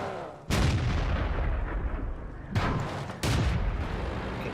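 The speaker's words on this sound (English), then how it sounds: "Getting shot from somewhere." Tank cannon fire in World of Tanks while driving a French AMX 40: three heavy booming shots at irregular intervals, each with a long rumbling decay over a low engine-like drone, loud and close, no talking.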